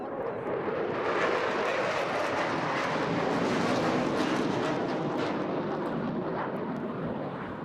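A Eurofighter Typhoon with twin reheated Eurojet EJ200 turbofans roars past at an airshow in Eastbourne, a loud, continuous broadband jet rumble that swells and holds steady for several seconds without any voices.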